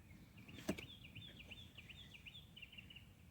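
Birds singing off in the distance near a parked van, faint repeated chirping phrases over low background rumble, with one sharp knock near the start.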